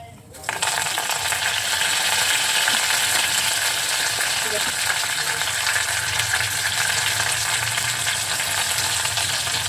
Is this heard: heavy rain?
no